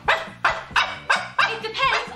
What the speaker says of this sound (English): And Kyra is a dog. What noise does a dog make, Jessie?